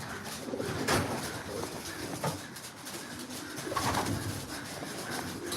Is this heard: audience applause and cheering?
no